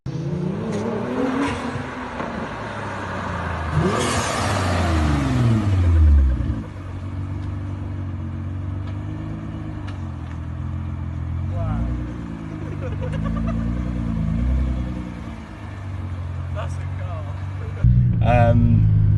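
A tuned 925 bhp Nissan GT-R with big hybrid turbos revs and accelerates hard on a private road, its pitch climbing and falling through gear changes, loud and close, with another surge near the end.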